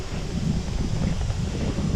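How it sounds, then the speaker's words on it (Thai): Strong wind gusting through forest trees, a close, rough rush with buffeting on the microphone, steady and loud for the whole two seconds. "ลมแรงลมแรง"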